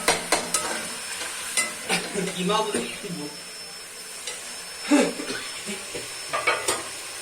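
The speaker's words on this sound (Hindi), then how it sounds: "बस कीमे को भून रहा हूँ।" Minced meat being browned in a pan, intermittent sizzling broken by repeated spatula scrapes and stirring knocks at close range, with faint background sounds.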